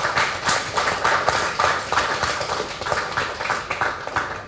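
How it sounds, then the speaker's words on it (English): A room at a medical handbook launch breaks into a steady round of applause, dense rapid claps filling the space evenly for several seconds with no voices over it. "I want us to give a round of applause to the people who have"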